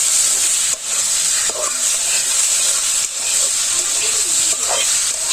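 Food being stirred in a pan with salt while cooking in a small village home kitchen: steady bright sizzling hiss throughout, with a few soft scraping stirs and brief dips, close and fairly loud.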